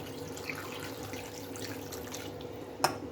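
Hot water poured into mutton curry simmering in a wok: a soft, steady watery pour under low background noise, ending in a brief sharp clink near the end, with no talk.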